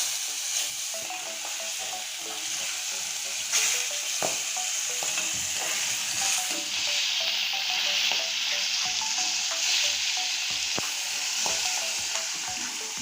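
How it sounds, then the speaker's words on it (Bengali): Fish frying in hot oil in a pan, turned over partway through: a steady, close crackling sizzle runs throughout with occasional scraping clicks from the spatula. "এখন আমি মাছ তেলের উপরে দিয়ে দিয়েছি এবার দেখে নিচ্ছি মাছটা দেখে উল্টিয়ে দিচ্ছি"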